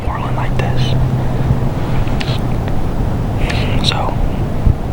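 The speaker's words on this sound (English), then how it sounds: "It is very windy today, so I can see why the wind keeps switching" Strong, gusty swirling wind outdoors during a late-season deer hunt, a steady loud rush buffeting the microphone, with faint whispered speech over it.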